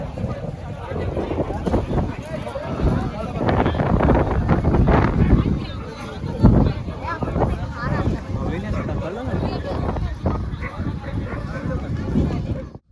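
Wind gusts across the microphone on the heights of Raigad fort, a loud, continuous buffeting roar that rises and falls while a person talks over it.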